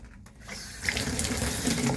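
Cold water running from the bathtub faucet of a 2014 Springdale RV, a close, steady rushing stream that starts softly and quickly swells to full flow.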